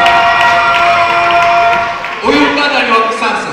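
Guests at a traditional wedding in Bowling Green, Kentucky break into clapping and cheering. A voice and tonal sounds come first, then the crowd noise swells and carries to the end.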